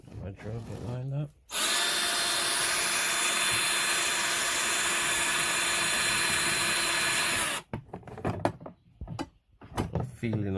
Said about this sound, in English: Come on, my drill get lined up.